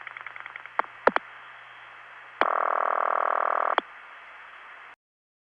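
Telephone network signalling on a long-distance call: a rapid train of dial pulses, several sharp clicks, then a sustained buzzing tone closed by another click, all over a low steady hum.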